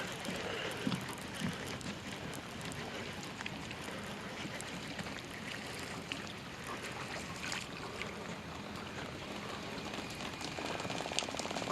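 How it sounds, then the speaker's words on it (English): Rain pattering steadily at night on a river during shrimp-bait fishing at Bon Secour River, a soft continuous hiss of drops on water and gear, faint and even throughout, with no talking. "I can feel the rain hitting the rod."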